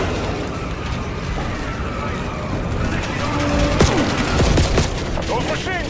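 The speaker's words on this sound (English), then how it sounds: "Those machine guns will cut right through us!" Bursts of machine gun fire crackle through a busy zombie-mode video game battle, rapid volleys dense and loud over a steady rumbling backdrop of game sound, with scattered sharp cracks standing out.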